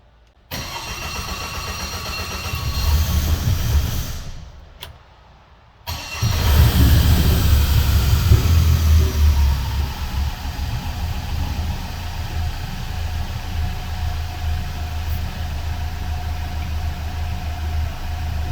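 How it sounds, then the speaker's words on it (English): A Mercury outboard engine whose fuel pump had run dry cranks and labours, pauses briefly, then fires and settles into a steady loud idle, close up with no talking. "Took a little bit to start there because the fuel pump was dry."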